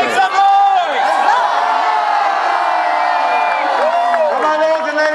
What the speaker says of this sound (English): raise thy voices and cheer for these two magnificent champions who have performed for you this day